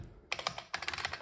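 Keys clacking on an IBM Portable PC Model 5155's Model M keyboard, two quick bursts of sharp, close mechanical strikes separated by a brief pause, with no talking.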